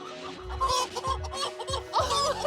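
Chickens on a 500-hen egg farm cluck repeatedly nearby, several short rhythmic bursts of throaty clucking overlapping one another against a low background murmur.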